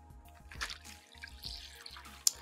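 Water trickles and drips into a plastic food storage bag in a few short, quiet pours, close by, with a sharp little splash near the end.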